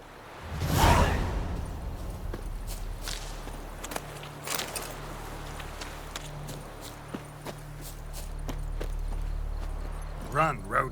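Roach, a horse in the video game The Witcher 3: Wild Hunt, breaks into a run with rhythmic hoof clip-clops and a whoosh, set under a low ambient drone with a voice speaking over it.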